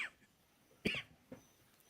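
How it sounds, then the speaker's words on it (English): A single sharp cough bursts out close to the microphone, followed by a smaller second cough, both brief against a quiet room. "I don't know why that made me cough."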